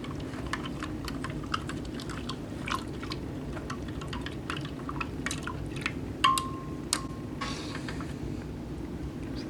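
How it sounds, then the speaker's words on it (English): Rehydrated Indonesian T2-PJ freeze-dried ration being stirred, with close, irregular wet clicks and scrapes of a utensil against the pack over several seconds, no voices. "Give that a stir."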